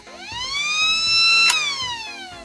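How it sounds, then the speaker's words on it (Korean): A Marui sound laser toy gun gives off a rotating mechanical siren wail, a single rising and falling electronic tone with bright harmonics that swells and fades. It plays up close and alone, and a short click comes near the middle. "이렇게 소리가 회전하면서 기계식 사이렌 소리가 되는 거죠"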